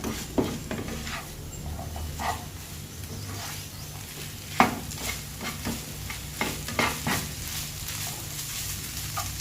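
Fried rice with shrimp paste chili dip, egg, carrot and cucumber is stir-fried in a pan over moderate heat, a continuous sizzle with frequent quick scraping strokes of a spatula and one louder clank, close and without speech.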